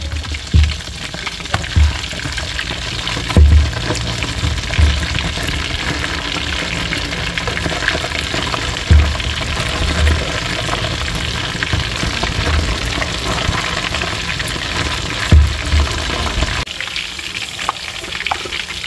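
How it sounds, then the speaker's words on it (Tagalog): Steady loud sizzling and crackling of vegetables and fish fillet stir-frying in a hot pan, with occasional soft thumps and scrapes as the food is tossed, no voices. "Stir-fry vegetable."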